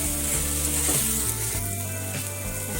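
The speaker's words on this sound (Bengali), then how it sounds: "আলুগুলো সিদ্ধ হতে থাকবে আর কষতেও থাকবে।" Potatoes and mixed spices sauté in a pan for a curry with chickpeas, giving a continuous close sizzle over low background music.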